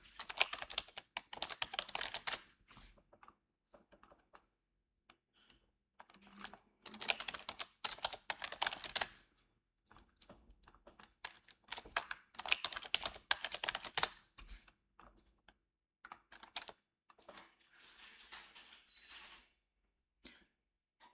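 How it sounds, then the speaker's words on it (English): Typing on a computer keyboard, close and clicky, in bursts of rapid keystrokes separated by short pauses, with no speech over it. "The keyboard's louder than me."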